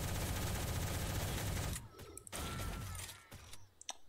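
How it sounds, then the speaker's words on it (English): Rapid automatic gunfire in the online shooter game Shell Shockers, a loud dense burst for nearly two seconds, then scattered mechanical clicks and shorter shots. "I'm laying down cover fire."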